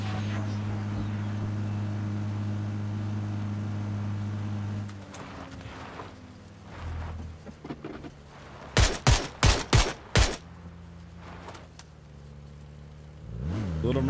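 A quick burst of five sharp gunshots in PUBG, loud and evenly spaced, following a steady vehicle engine drone that fades out.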